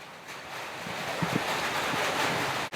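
Water poured from close by into a clay pot on a stove makes a steady rushing splash that lasts a few seconds and cuts off sharply at the end.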